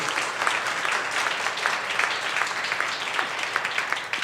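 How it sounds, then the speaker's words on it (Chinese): A church congregation at a prayer meeting claps steadily to welcome a pastor. The applause is dense and sustained, many hands in a fairly close indoor room, with no pauses. "我们这时候一起拍手来欢迎蔡先生、蔡牧师"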